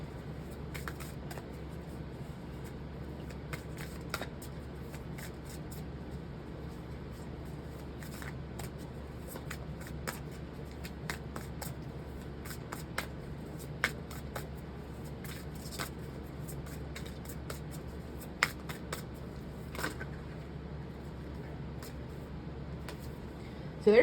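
A deck of tarot cards being shuffled by hand gives soft, repeated papery riffles and flicks with scattered sharper snaps, quiet and close over a low background hum.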